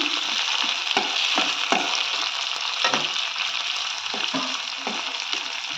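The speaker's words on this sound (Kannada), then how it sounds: "ಇದಕ್ಕೆ ಇವಾಗ ಹೆಚ್ಚಿಟ್ಕೊಂಡಿರೋಂಥ ಟೊಮೊಟೊ ಹಾಕೋಣ. ಇದನ್ನು ಚೆನ್ನಾಗಿ ಫ್ರೈ ಮಾಡ್ಕೊಳ್ಳೋಣ." Chopped tomatoes fry in a pan for South Indian cabbage rice with a steady, close sizzle, broken by repeated scraping knocks as the mixture is stirred.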